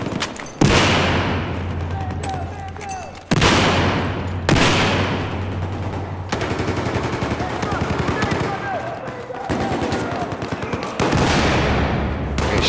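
Rapid automatic gunfire and heavy shots crack through an Xbox shooter game, coming in dense loud bursts separated by brief breaks, with faint voices under the barrage.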